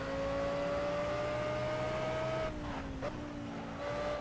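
A mid-engine race car in a racing video game at the Brands Hatch circuit holds a high, steady engine note, then drops and surges through quick gear changes and lifts before climbing again.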